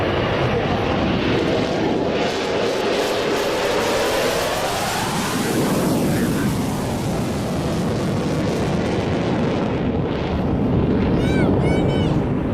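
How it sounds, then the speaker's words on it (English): Concorde flying past at an evening airshow, a loud broad roar that swells and sweeps in pitch as it passes, with wind buffeting and a voice talking over it. "You're seeing Concorde yet again"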